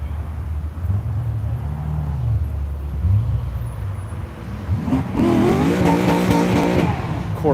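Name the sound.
Corvette warming up its tires on a wet skid pad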